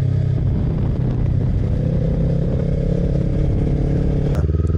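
A motorcycle ridden over a bumpy, potholed road, its engine droning steadily and loud throughout with low rumble and rattling clatter from the rough surface, alone without talk.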